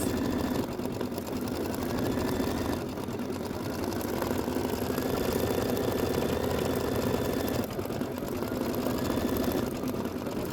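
An embroidery machine sews a satin stitch around the wings of a quilt block, a steady, dense mechanical hum with rapid needle chatter, running continuously and fairly close.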